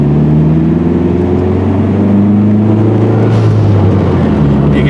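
A Dodge Neon SRT4 on the road, turbo kicking in, with a worn clutch and a failing wheel bearing: a loud, steady engine drone with strong low harmonics that shift slightly in pitch as it pulls.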